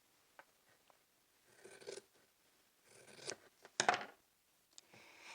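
Scissors snipping through skirt fabric at close range, several separate crisp cuts and slides in short bursts with quiet gaps between them, no voices.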